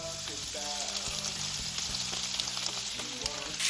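Small shrimp frying in butter and olive oil give off a close, steady sizzle and spatter, with a voice talking over the cooking throughout.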